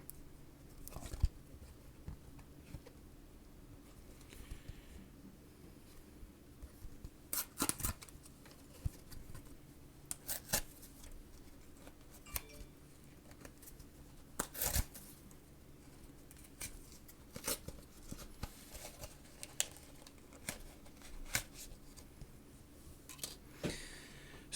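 A Raspberry Pi 4 Model B retro gaming kit is unboxed: quiet, scattered crinkles, taps and rustles of packaging at close range, with brief sharp clicks spread irregularly over the whole stretch.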